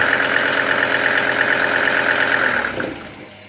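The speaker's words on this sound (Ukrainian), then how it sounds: "Ну, непогано робить, мотор в хорошому стані." A Mercedes OM602 2.5-litre diesel engine driving an irrigation water pump runs at a loud, steady idle-like drone, then is shut off and winds down to silence near the end.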